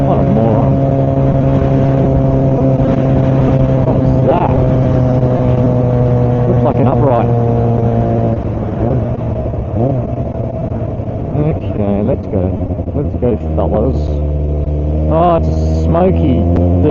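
A smoky diesel vehicle's engine drones past a motorcyclist on a cold-weather road, with strong steady harmonic rumble that shifts in pitch midway and continuous wind noise throughout.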